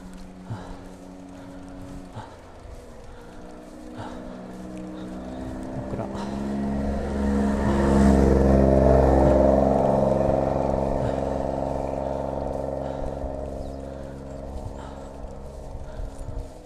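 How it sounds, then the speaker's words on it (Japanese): A car comes up a hilly country road on Shodoshima, passing a cyclist on a bicycle trip. Its engine hum swells gradually to a peak about halfway through, then slowly fades away. No one speaks. "車来た。"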